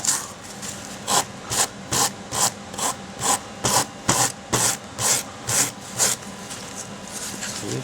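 A rasp files down a rabbit taxidermy form, thinning it toward the neck, with about fourteen steady back-and-forth scraping strokes in an even rhythm, close and fairly loud.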